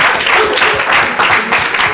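Studio audience of a French televised game show applauding contestants, loud, dense and continuous clapping close up, filling the whole moment.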